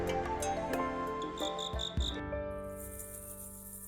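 Steady, high-pitched chirping of crickets, close and continuous, with a faint rattling texture underneath.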